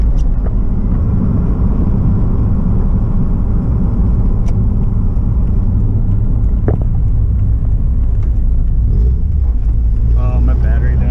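A Mazda Miata fitted with a Roadster Sport 4 exhaust runs steadily nearby, a continuous low engine rumble holding for the whole stretch with a brief rise near the end, while people talk over it.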